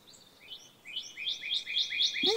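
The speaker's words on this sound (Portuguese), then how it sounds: "Shhh, escuta. Um cardinal." A cardinal sings a run of clear, rising whistled notes that repeat faster and grow louder, heard alone in a quiet outdoor setting.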